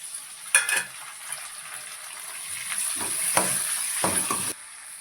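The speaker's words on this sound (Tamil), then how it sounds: "வெங்காயம், இஞ்சி பூண்டு பச்சை வாசனை போகிற அளவுக்கு நல்லா வதக்கிக்கலாம்" Onion, ginger, garlic and tomato sauté in a pan for a bottle gourd prawn gravy. A steady, close sizzle runs throughout, with a few scraping stirs breaking through.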